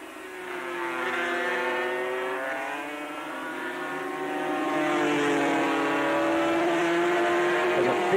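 250cc racing motorcycles at the Amaroo Park circuit scream past, a rising and falling high-pitched engine whine heard from a distance, with a commentator talking over it.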